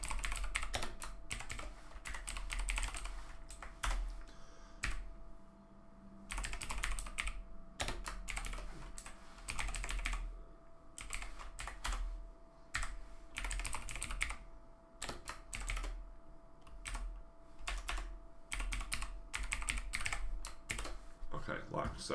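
Rapid bursts of typing on a computer keyboard, close and clattery, come in uneven runs with short pauses between them, while faint speech sits in the background at times.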